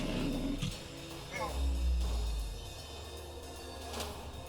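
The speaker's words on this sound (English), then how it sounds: "Okay, well we might as well do Battle Roar." A Battle Roar ability in the game Vambrace: Cold Soul lets out a deep, rumbling roar in the middle of a few seconds of game sound effects.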